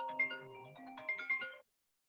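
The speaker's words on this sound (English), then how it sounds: "That was my phone ringing." A mobile phone ringtone plays a short melodic phrase at moderate volume for about a second and a half, then stops abruptly into silence.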